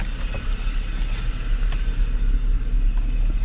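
A Mercedes V12 engine with its throttle computer under test accelerates, a steady loud low rumble that holds continuously without distinct surges.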